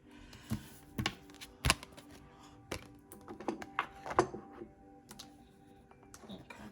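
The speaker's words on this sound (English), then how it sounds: "I'm going to move some of these cards out of the way just to free up some space" Tarot cards slid and shuffled across a table, a string of close, quiet taps, flicks and soft clacks in an irregular rhythm, with faint room noise and no speech.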